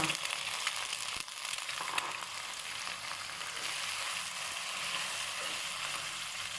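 Minced pork stir-frying with salid flowers in a hot pan, making a loud, steady sizzle close up, with occasional scrapes and clinks from stirring.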